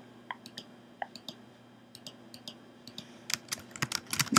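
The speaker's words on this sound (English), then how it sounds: "I'm clicking!" Fast clicking on a Mac computer while playing a game, sparse clicks at first that turn into a rapid, louder cluster near the end, close and clear.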